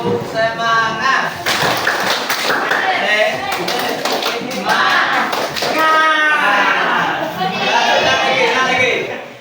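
A school class in Padang stands and performs a rhythmic spirit clap, bursts of patterned group clapping alternating with children's chanted voices, loud and close throughout.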